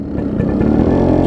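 A Yamaha RX135 motorcycle just kick-started, its engine running loud and close with a steady, throbbing rumble that holds for the whole moment.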